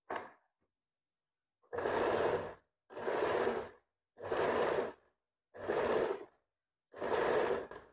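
A sewing machine stitches blouse fabric in five even bursts of about a second each, separated by short pauses, close and clear with no talking.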